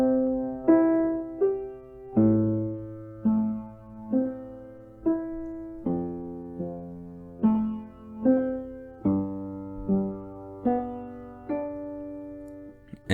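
A beginner plays a simple song slowly and hesitantly on a piano: single notes and chords struck one at a time with uneven pauses, each note ringing and decaying, with no talk over it.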